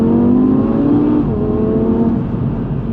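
A 2019 Audi TT RS engine revs loudly and close up in one sustained, throaty roar that dips slightly midway and holds steady, with no talking.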